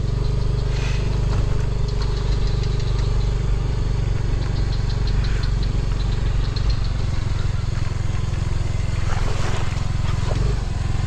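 A motorcycle engine runs steadily with a constant low rumble and then stalls, heard close and loud on a forest road near a bridge, with faint sounds of movement over the engine and no clear talk.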